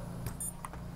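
A heavy-lift drone's flight controller chirps a short series of about four faint, quick beeps as its battery is connected, heard over a low steady hum.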